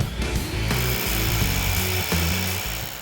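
A Bosch Professional 18V cordless drill running loud and close, a whining motor that revs and shifts pitch in short bursts as it bites into material.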